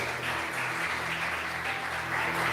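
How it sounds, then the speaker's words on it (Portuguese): A church congregation applauds during a Portuguese-language sermon on the parable of the rich man and Lazarus: a dense, steady wash of clapping lasting the whole stretch, with a low sustained tone beneath it. "Você pode aplaudir ao Senhor por isso?"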